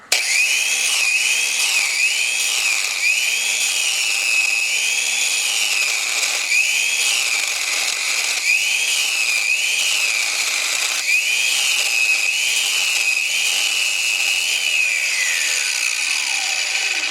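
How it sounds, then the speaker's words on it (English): A valve seat cutter grinds a 60 degree angle into a Jeep 258 cylinder head, giving a loud, steady high-pitched metallic whine with rising and falling tonal sweeps throughout, and no talking. "just cut a 60 degree on this cutter, and we're going to do a little bit more finishing here"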